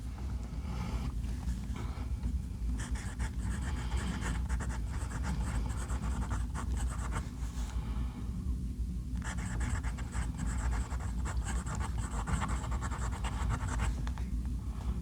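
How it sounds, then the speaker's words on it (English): A fine-nib fountain pen with a Micarta body scratches steadily across paper, its nib feedback giving a continuous close, dry scraping texture with brief pauses between strokes. "You might be able to hear that there is some feedback to this fine nib"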